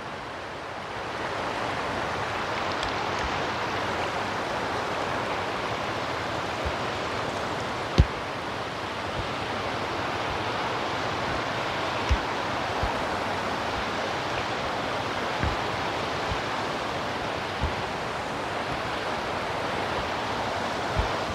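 Broad, steady rush of river water flowing over rocks on the wide Candice River in Rizal, Palawan, continuous and fairly loud throughout with a few faint knocks and no talking.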